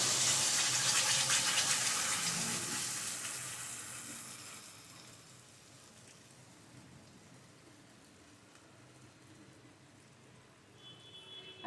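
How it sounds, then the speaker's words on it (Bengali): Ground paste hits hot butter in a pan for paneer butter masala, bursting into a loud, close sizzle that gradually fades to a soft, steady hiss. "এবার আমি প্যানটা গরম করে তার মধ্যে একটু বাটার দিচ্ছি বাটারটা দিয়ে আমি এর মধ্যে এটা ঢেলে দেব"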